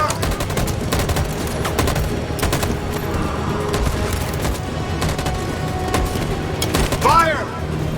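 Dense, sustained gunfire from many weapons in a video game's violent street battle scene, rapid overlapping shots and bursts filling the clip at steady loudness, with a brief tonal sweep near the end.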